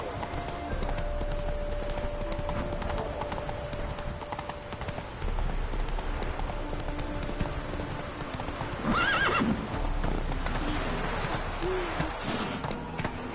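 Roach, Geralt's horse in The Witcher 3, galloping with a steady drumming of hooves, a loud whinny rising over the hoofbeats partway through, and a faint hooting bird in the background.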